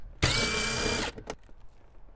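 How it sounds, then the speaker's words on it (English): A power drill removes screws from a Ford F150 Lightning truck door panel, one loud close whirring burst of about a second, then a short second spin and light clicks, with no talking. "Once those are removed, go ahead and remove the 2 screws behind it."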